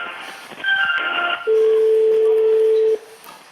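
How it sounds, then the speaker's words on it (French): A few short dialing beeps, then one long steady ringing tone on a French phone line during a radio call-in, clear and close, followed by quiet line noise. "Ah, ça sonne."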